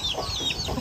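A chicken clucks softly in a short burst, close by, over a faint background hiss.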